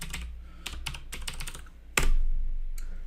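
Typing on a computer keyboard: a quick run of close key clicks followed by a sharper keystroke, like a return press, with no talking.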